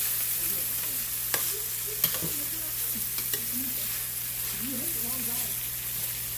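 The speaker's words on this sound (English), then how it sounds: "Get them all stirred up." Ramen noodles being stir-fried in a pan, with a steady close sizzle under repeated scraping and stirring strokes of a utensil, while a voice talks faintly over it.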